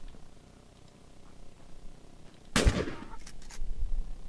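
A single sharp gunshot from the video game Fort Zombie cracks out with a brief ringing tail over a low background hum, then the hum continues.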